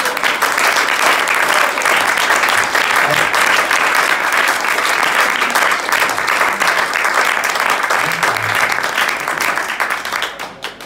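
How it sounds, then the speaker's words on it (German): A studio audience breaks into loud, sustained applause, the dense clapping holding steady across the whole stretch as a guest named Heiko is welcomed, with a few faint voices buried in it and the noise easing slightly at the very end. "bitte begrüßen Sie mir mit einem zauberhaften Applaus unseren Heiko E. aus F."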